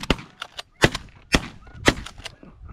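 Shotgun blasts during a snow goose hunt, four sharp, loud reports spaced unevenly over a few seconds with fainter pops between, outdoors in open country.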